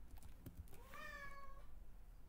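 A house cat gives a single clear, drawn-out meow that rises and then falls, close and fairly soft against a quiet room with faint clicks before it.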